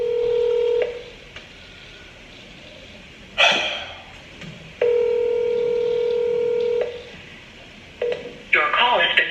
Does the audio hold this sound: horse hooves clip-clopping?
no